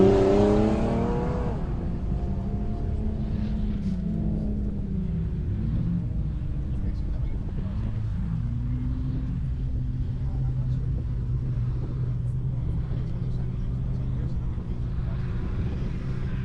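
Race cars in a stock-class preliminary heat at an off-road racing event roar steadily around the track, a continuous loud engine rumble with some pitch sweeps, under a faint commentator's voice.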